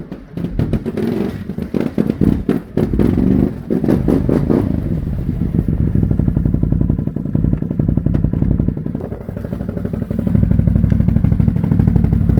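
A 6x6 off-road vehicle's engine idles outdoors while warming up, loud and close, with a rough, rattling clatter and a few revs early on before it settles into a steady, throbbing idle.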